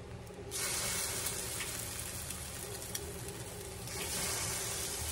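Egg-soaked cinnamon raisin bread frying in a hot, sprayed pan gives a steady close sizzle and hiss that swells at the start and again near the end, with a few light scrapes in between.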